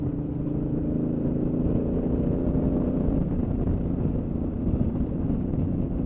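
Honda Africa Twin Adventure Sports motorcycle shifting down through the gears with its quick shifter and auto blipper, no clutch: a steady, loud engine drone from a helmet camera, heavy with wind rush and no talking.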